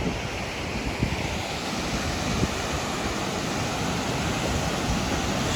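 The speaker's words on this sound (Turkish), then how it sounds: "Burası Muradiye şelaleleri." The Muradiye waterfalls near Van in Turkey pour as a dense, continuous roar of rushing water, loud and close, mixed with wind buffeting the microphone and a couple of faint knocks.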